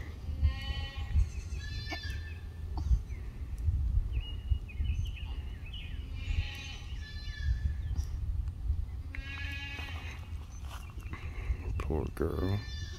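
A Kiko nanny goat in labor bleats repeatedly at a farm, loud and close, with someone talking quietly between the calls.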